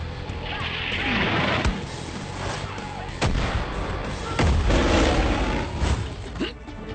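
Several heavy explosive launcher shots boom through a noisy game soundscape, with rumbling impacts and debris between blasts.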